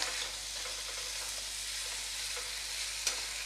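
Onion greens frying in a pan, a steady close sizzle with faint stirring movements and one sharp clink near the end.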